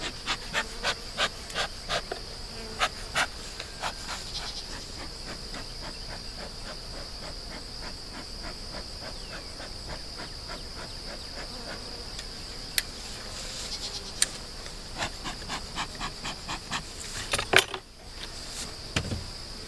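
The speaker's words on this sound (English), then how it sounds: "A lot of bees up top here." Honey bees in an opened, freshly smoked hive give a steady, dense buzzing drone throughout, close to the listener, with scattered sharp ticks and handling clicks, a small cluster of louder knocks near the end.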